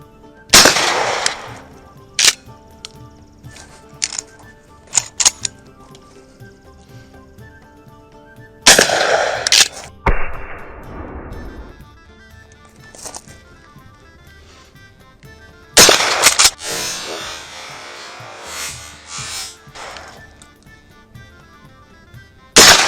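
Loud shotgun blasts from a Mossberg 500 and a KelTec KSG fired at orange clay targets ten and twenty-five yards away, several sharp separate shots with ringing tails and a quick cluster near the end.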